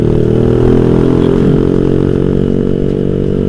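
A carburettor-fed motorcycle engine, the bike called Mexy, runs steadily and loudly up close, its even drone carrying a faint stuttering roughness throughout.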